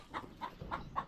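Hens cluck in a farmyard in the Philippines, four short clucks at an even rhythm, fairly close and soft, with no talking.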